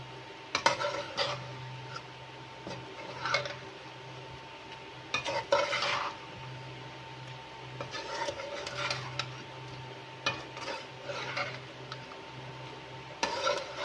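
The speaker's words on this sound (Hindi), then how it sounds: "नमक को अच्छे से मिक्स करूँगी" Salt being stirred into spicy kaleji, goat liver, in a pan: intermittent scraping and clinking of a spoon against metal in scattered bursts over a faint low sizzle, close and without speech.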